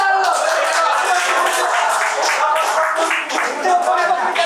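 Clapping and applause from a group at a launch event, steady close clapping that fills the whole stretch, with voices mixed into it.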